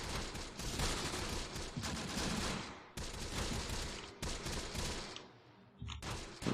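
Gunfire from units in the wargame Close Combat: The Bloody First, sustained volleys of rifle and machine-gun fire rattling in long bursts, broken by brief gaps, dense and fairly loud.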